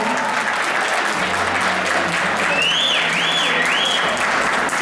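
Audience applause at the Miss Africa Switzerland 2013 pageant, a steady, dense clapping that holds for about five seconds with a brief whistle or cheer rising partway through.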